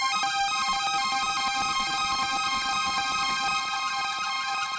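A modular synthesizer holds a bright, steady tone thick with harmonics, run through a delay effect that smears repeating echoes together into one sustained sound for the whole stretch.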